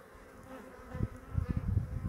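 Honey bees buzzing around beehives on a warm day, a soft close hum that swells in low bursts as insects fly near, with no talking.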